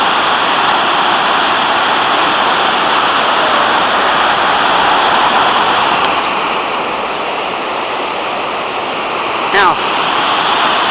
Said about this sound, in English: Very nice rapids, or falls actually,